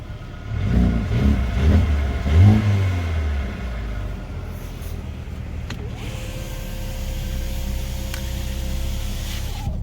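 A 2020 Mercedes-AMG A35 in Sport Plus mode revs up with a few quick throttle blips, then the engine drops back to a steady, slightly raised idle hum, heard close by.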